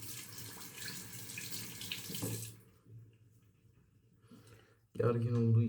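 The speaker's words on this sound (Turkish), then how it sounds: "Şöyle ustalarımızı bir tur yıkayalım." A tap runs as a straight razor is rinsed under it, giving steady splashing water for a few seconds, then quiet, then a louder burst of running water near the end, with someone talking in the background.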